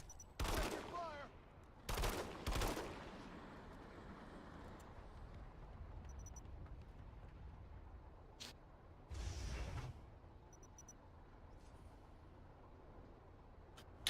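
Bursts of gunfire in the online shooter PlanetSide 2 at a bridge garrison base, with three loud volleys early and another around nine seconds, separated by quieter battlefield ambience and scattered faint shots.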